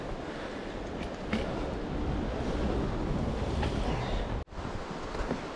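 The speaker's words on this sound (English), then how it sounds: "There's the river down there." A river flows below a trail bridge on the Appalachian Trail in the Grayson Highlands, heard as a steady, broad rushing wash mixed with wind buffeting, with one brief dropout late on.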